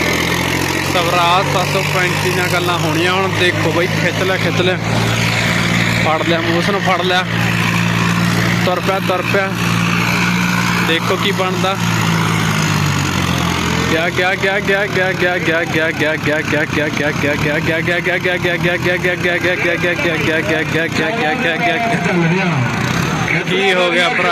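Tractor engines labour and rev while pulling a loaded trolley at a village trolley-pulling competition in Ubha, Punjab, a steady low rumble rising and falling under constant crowd chatter and loud commentary.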